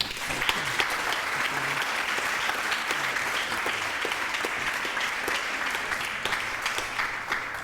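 An audience claps steadily to welcome speakers Tom and Ondine at a Warhol and Pop talk, a dense even wash of many hands that holds at a constant level throughout with no voices.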